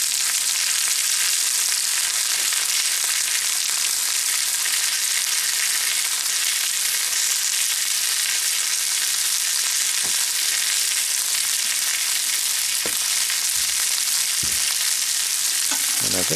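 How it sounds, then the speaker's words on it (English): Fish sizzling steadily in a frying pan at a boondocking campsite in a national forest, a constant close, bright crackle of hot oil with occasional sharper pops throughout. "A little sizzle going around that fish."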